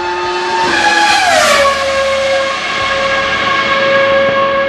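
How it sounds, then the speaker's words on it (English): A Formula 1 car's 3-litre V10 from the early 2000s screams at a piercing, very high pitch, sweeping up to a peak and then dropping into a sustained whine, loud and close with no talk. "The high-pitched scream is unlike anything else an F1 car has ever produced."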